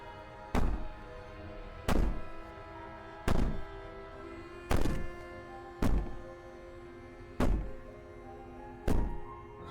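Heavy banging from the video game Slay the Princess: seven deep, booming thuds spaced about a second and a half apart, each ringing out briefly over a low, steady ambient hum, loud and close, with no voices.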